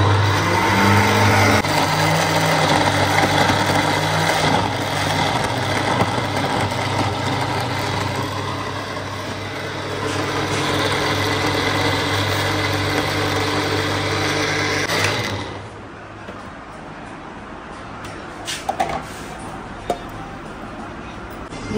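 An electric mixer grinds ginger, garlic and tomato with a loud, steady motor drone and whine. It runs for about fifteen seconds, then cuts off, leaving a much quieter room.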